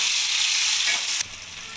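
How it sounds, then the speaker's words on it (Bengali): Chopped tomato and onion fry in a wok for a bean curry, giving a loud, continuous hissing sizzle that drops abruptly to a softer frying hiss near the end, with no talking. "টমেটো কুচিটা পেঁয়াজের সাথে ভালোভাবে লাল লাল করে ভেজে নেব।"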